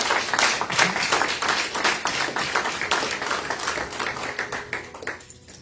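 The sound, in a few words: congregation applause in church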